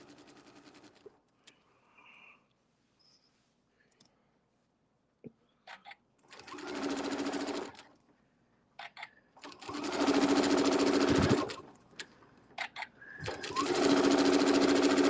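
Sewing machine stitching circles with metallic-matching gold thread, running in three bursts of steady whirring, each a couple of seconds long with the last ones longer, separated by quiet handling clicks and taps, close by.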